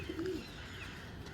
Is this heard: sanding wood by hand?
no